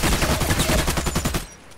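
AK-105 rifle firing in the shooter game Contract Wars, a rapid loud burst of automatic shots in a tight even rhythm, cutting off abruptly near the end.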